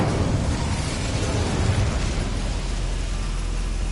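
A fire spell cast in Hogwarts Legacy, a magical burst with a loud, sustained roaring whoosh and a heavy low rumble that runs steadily through the moment.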